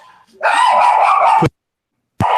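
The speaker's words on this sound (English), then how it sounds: "sorry about my dog barking" A dog barks loudly and close by in two bursts, a sustained run of yapping barks followed by a short second outburst after a brief silence.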